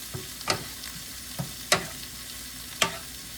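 Cabbage seasoned with onion powder sizzles quietly in a pan, broken by a few sharp utensil clanks and scrapes at irregular intervals, with no voices.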